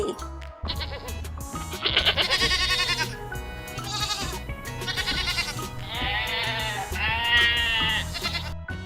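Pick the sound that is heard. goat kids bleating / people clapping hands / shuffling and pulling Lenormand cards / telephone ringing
goat kids bleating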